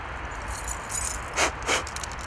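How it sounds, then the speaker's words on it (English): Car keys jangling outdoors by a river, two quick metallic rattles close by over a steady wash of background noise. "Oh no, my car keys, the car won't start."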